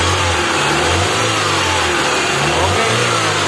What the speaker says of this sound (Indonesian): Suara mesinnya halus sekali ya. Ini untuk suara mesinnya halus sekali. Bisa digas, Mas Bang.